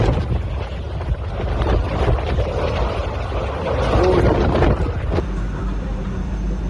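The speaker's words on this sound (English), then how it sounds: "The wind takes everything it meets." Violent storm wind roars steadily through Ankara, Turkey, a loud, continuous rushing blast buffeting the microphone, strong enough to tear off roofs and uproot trees, with voices faintly audible beneath it.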